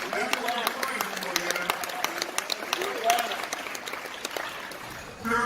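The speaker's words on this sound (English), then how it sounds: "Brother Kent I want to give a round of applause to this brother for this introduction" Convention audience applause crackles steadily as scattered claps beneath a person talking, ending with a brief swell at the close.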